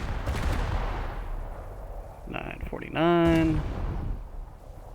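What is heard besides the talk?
naval ship guns firing in War Thunder video game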